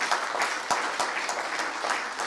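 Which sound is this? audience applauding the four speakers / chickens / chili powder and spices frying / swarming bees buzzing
audience applauding the four speakers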